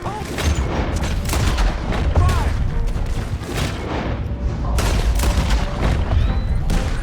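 Gunfire in Red Dead Redemption 2: a dense fusillade of booming shots and bursts, close and loud, keeps firing without let-up through a chaotic fight.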